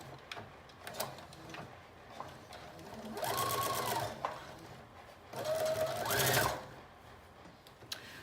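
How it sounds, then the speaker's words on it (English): A sewing machine stitches the front center seam of a McCall's 7569 mermaid prom dress in two steady motor-driven bursts, each about a second long, with quiet handling noises between them. "You're going to sew this front piece"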